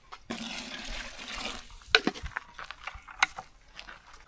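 Water poured into a cement and SBR mix for pond tanking slurry, a rushing splash that gives way to scattered sloshing and knocks, close and moderately loud with no talking.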